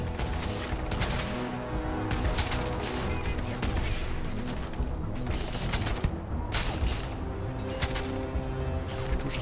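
Gunfire in the sci-fi game Starfield, with sharp, loud, repeated shots cracking at irregular intervals over a dense, busy background.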